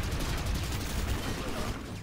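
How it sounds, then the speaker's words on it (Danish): Rapid sustained gunfire from a shooter video game, Planetside 2 on PS4, a dense continuous burst of automatic shots filling the whole moment at steady loudness. "Seriøst, jeg tømte et helt magasin i ham, mand."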